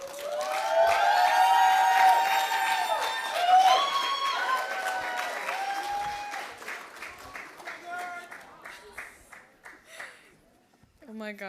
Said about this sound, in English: A round of applause and thank you.